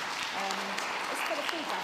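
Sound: audience applause

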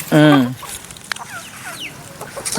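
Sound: native fighting breed hen and rooster clucking

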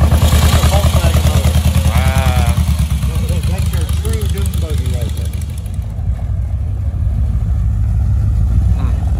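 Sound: Ecotec engine from a Chevy Cobalt running in a car

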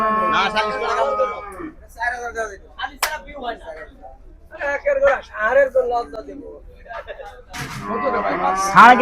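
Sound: cattle at Gabtoli cattle market

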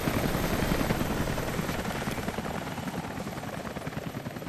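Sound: helicopter flying in video game Rise of the Tomb Raider

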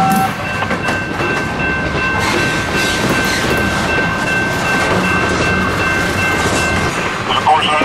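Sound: CSX freight train passing with flat cars of steel

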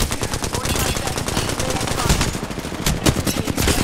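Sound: gunfire in the video game Apex Legends

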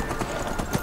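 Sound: horse hooves while riding past a camp in Skyrim video game

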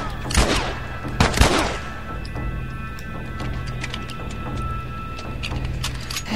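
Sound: gunshots in the video game The Last of Us

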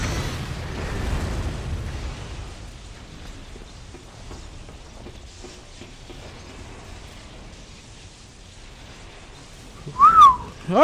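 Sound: whistling into the microphone

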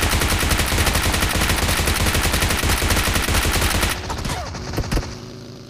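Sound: gunfire in the video game BGMI (PUBG)

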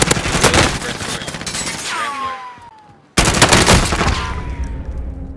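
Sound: gunfire in the video game Call of Duty

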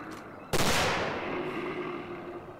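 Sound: gunshots in the video game Terra Incognito: Antarctica 1911

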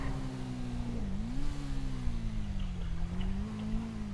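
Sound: motorcycle engine revving in the video game GTA 5

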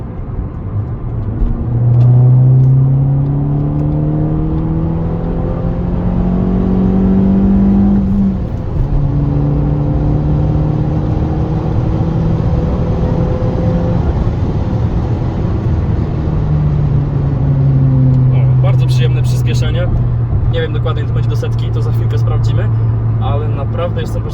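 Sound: Fiat Punto Evo turbo engine accelerating

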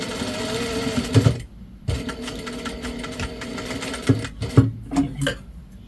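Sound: sewing machine stitching a seam

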